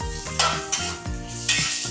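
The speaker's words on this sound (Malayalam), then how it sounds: "വീണ്ടും ഇളക്കണം അല്ലേ" A spoon scrapes and stirs food in a hot frying pan, with rhythmic clanking strokes over a continuous sizzle, close and fairly loud.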